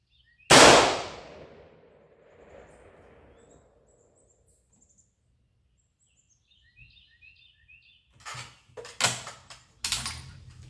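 A jungle carbine scout rifle fires a single loud shot at a 25-yard range, a sharp crack followed by a short decaying echo, with faint handling clatter and knocks several seconds later.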